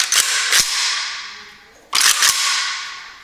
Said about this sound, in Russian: давайте вынимем сразу магазин